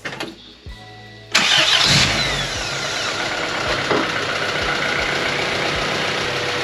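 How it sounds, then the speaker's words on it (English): A Honda Civic or Integra engine cranks and catches abruptly after a new distributor is fitted, then settles into a steady, fairly loud idle close by, with no talking. "Wow, that engine is a lot quieter now."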